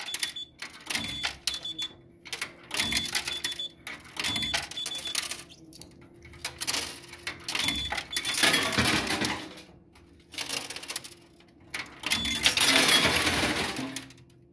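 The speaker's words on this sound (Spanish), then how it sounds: "Mientras sigan cayendo monedas" Coins drop and clatter in a coin pusher arcade machine, coming in irregular bursts of metallic jingling separated by short quiet gaps, with faint background noise.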